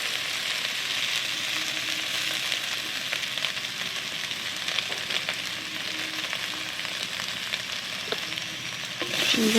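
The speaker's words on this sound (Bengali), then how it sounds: "একটু দেবো নুন হালকা, আর হালকা হলুদ দিয়ে ভেজে নেব আলুটাকে একটু লাল লাল করে" Potatoes frying with a little salt and turmeric in a wok, a steady close sizzle with faint stirring scrapes running throughout and a louder burst at the very end.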